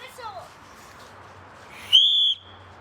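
A referee's whistle at a soccer match gives one sharp, shrill blast of about half a second, loud against a quiet backdrop, after faint chirpy squeaks earlier.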